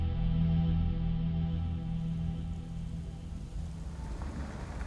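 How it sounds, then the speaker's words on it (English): Steady rain falls during a hurricane, a dense, even hiss that is close and fairly loud throughout, with a low rumble underneath and no voices. "So it just keeps raining."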